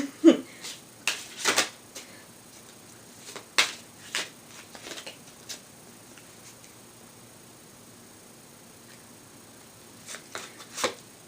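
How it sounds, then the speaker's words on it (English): Oracle cards are handled and drawn from a deck, giving scattered crisp clicks and brief riffling slaps, busier at the start and again near the end, with quiet pauses between. "So let me get another card."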